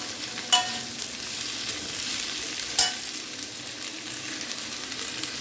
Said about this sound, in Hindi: इसको पलटते पलटते करीब करीब 2-3 मिनट तक भूनना है, जब तक ये थोड़ा सॉफ्ट ना हो जाए